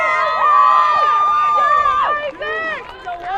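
Home crowd cheering and shouting late in a high school boys lacrosse game between Bishop Guertin and Londonderry, a loud sustained roar with whistles and yells that swells, dips briefly, then picks up again.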